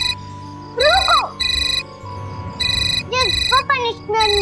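Repeating electronic phone ringtone sounding in bursts, a steady patterned chime over a low background, with brief voices and other melodic sounds interleaved in a dramatic scene.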